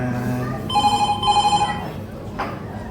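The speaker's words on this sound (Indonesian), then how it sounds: "Papa angkat telepon dulu ya." An indoor telephone rings close by in two bursts of bright trilling bells over a low background hum, followed by a brief knock-like sound.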